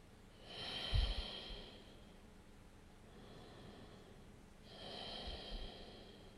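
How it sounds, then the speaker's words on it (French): Slow, deep breathing during a hip-opening yoga session: two long, soft airy exhalations about four seconds apart, close and fairly quiet, with a brief nasal snort-like push at the start of each breath and no talking. "à chaque respiration, on envoie un peu plus d'air pour relâcher cette zone."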